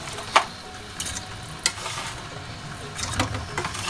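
Chicken wings frying in a pan for sweet and sour wings, a steady sizzle with a few sharp stirring scrapes and clinks, close and moderately loud, no voices.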